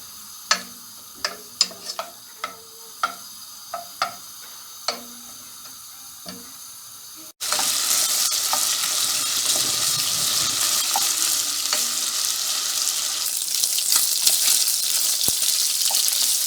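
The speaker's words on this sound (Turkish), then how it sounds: "kuşbaşı doğramış olduğumuz göğüslerimizi biraz kızarıncaya kadar kavuracağız arkadaşlar" Scattered light taps and clicks give way to a sudden, loud, steady sizzle of diced chicken breast frying in a pan, continuing up close.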